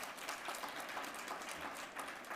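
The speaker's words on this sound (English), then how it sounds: "I think that deserves a round of applause." An audience at an airports company's annual financial results presentation breaks into applause, a quiet, fairly distant spread of many hands clapping with a steady rattling texture and no speech.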